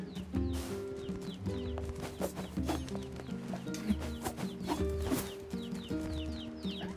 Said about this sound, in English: What, I scared a chicken?